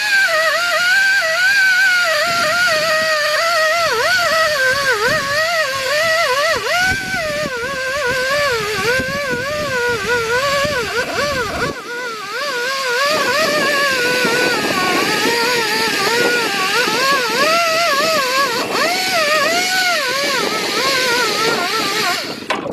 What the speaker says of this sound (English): So we're gonna get some air tools in here and clean this off good.